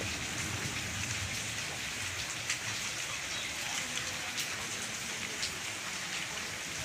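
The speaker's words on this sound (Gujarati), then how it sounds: "મેં પડે જો આ એકદમ જોરદાર" Heavy rain pours down over farm fields in Porbandar district, a dense, steady roar of drops hitting the ground with no break, heard alone without voices.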